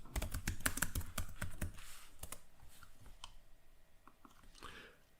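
Quick typing on a computer keyboard as a folder name is entered, with a fast run of crisp key clicks that slows into a few scattered, softer taps.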